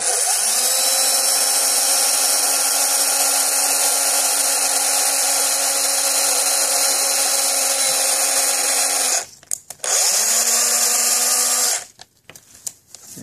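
A power drill whirs steadily at high speed for about nine seconds, stops briefly, then runs again before cutting off near the end, drilling a grommet hole while its battery runs low.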